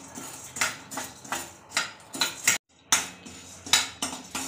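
Dal dry-roasted in a pan on low flame, with a steady rhythm of metal spatula scrapes and clinks against the pan, close and repeated about twice a second with one brief pause.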